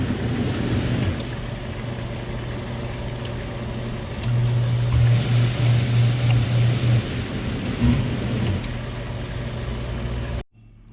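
Hot tub jacuzzi pump running, a steady low mechanical hum with rushing water and noisy air movement throughout, fairly loud and close, then cutting off abruptly near the end.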